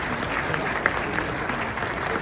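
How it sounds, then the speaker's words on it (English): Steady applause from a crowd at a reception for a member of Parliament, filling the whole stretch evenly with no break. "A round of applause."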